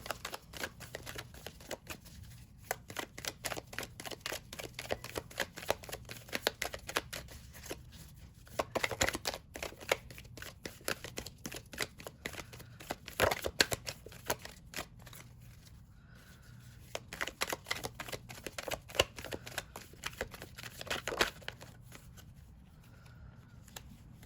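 Tarot cards are shuffled by hand in a fast, continuous stream of soft riffling clicks and slaps, close and quiet, with brief pauses, and no voices.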